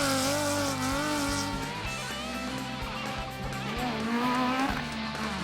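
Race cars on the ARB Griffith 400 off-road course, among them the 150 car and Super 1650s, roar past with a loud, continuous engine drone that rises and falls in pitch through the gears, tires hissing on the surface. No one speaks.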